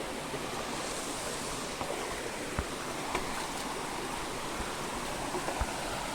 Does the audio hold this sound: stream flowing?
yes